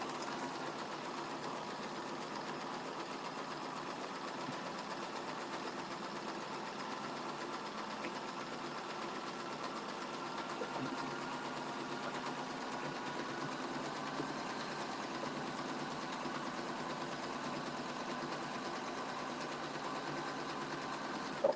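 A sewing machine runs continuously at an even, rapid stitching pace while piecing a flying star quilt block, a steady mechanical whir and hum with no pauses and no talk.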